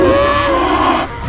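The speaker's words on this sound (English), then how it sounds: "Patila and Gorilla heard the screams of the cow and buffalo and quickly went to that area." Cartoon cow and buffalo cry out in a loud, drawn-out bellowing scream with wavering pitch, close and alone for just over a second before fading.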